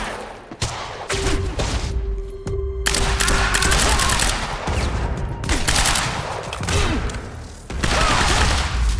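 Sustained suppressing gunfire in the Quantum Break video game, with dense rattling bursts of automatic fire broken by short pauses, loud and close throughout.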